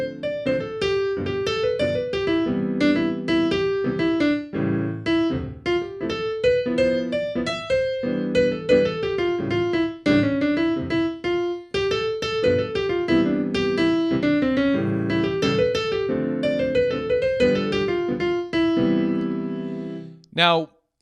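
A hesitant, beginner-style high school jazz solo on a single melodic horn, a continuous run of choppy phrases with uneven notes and breaths between lines, close and fairly loud, ending in a short final flourish; no talking.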